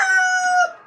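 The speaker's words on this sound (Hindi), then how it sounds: "ये एक कमरे में मैंने मोस्टली वो मुर्गियाँ और मुर्गे रखे हुए हैं" A rooster on a small poultry farm gives one short, clear crow, close and loud, fading at the end.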